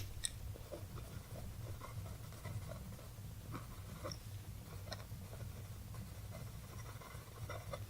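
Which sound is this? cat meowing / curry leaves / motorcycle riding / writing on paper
writing on paper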